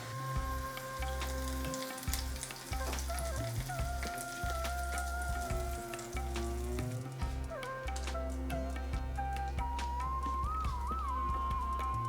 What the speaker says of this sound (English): The garlic is turning golden, and that is frying beautifully.